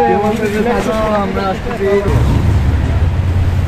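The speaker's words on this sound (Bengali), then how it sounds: "সমুদ্র গর্জন দিতেছে আমাদেরকে।" Sea surf roaring at a beach, a loud, continuous broadband rumble that swells in after a short stretch of someone talking at the start.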